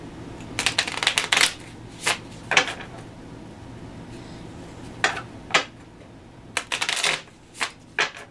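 A deck of playing cards for a Prince Caspian card game is shuffled in several quick riffling bursts, each a sharp papery flutter with short pauses in between, close and clear.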